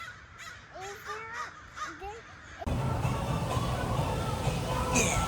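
A flock of crows cawing repeatedly outdoors on a winter evening, harsh calls overlapping at moderate distance, followed by a louder, denser stretch of outdoor noise with birds still calling.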